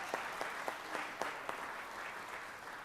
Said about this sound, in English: Y'all give Sam a big round of applause.